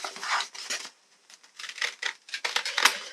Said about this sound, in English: Let's do part of it with my scissors here.